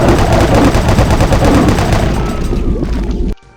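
Shotgun blasts in Doom played with an accessibility mod: loud, dense, rapid gunfire in a steady barrage that cuts off abruptly after about three seconds.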